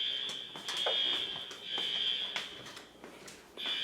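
A fire alarm sounds nearby indoors in a shrill, high, pulsing tone, repeating in bursts with brief gaps between them over faint background noise.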